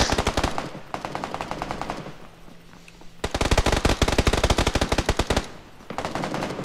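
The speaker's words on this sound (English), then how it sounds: "I think he's shooting at them." Automatic gunfire in the battle royale video game PUBG on the Miramar desert map: two long rapid bursts of loud, close shots with a brief lull between, and no talking over them.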